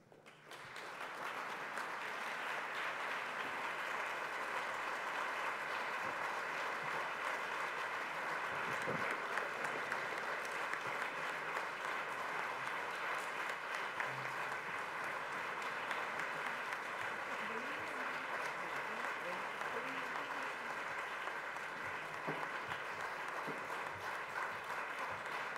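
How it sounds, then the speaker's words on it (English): Audience at a memorial award ceremony applauding steadily for about twenty-five seconds, a dense even wash of clapping filling the hall, moderately distant and fairly quiet. "please join me in giving them a great applause"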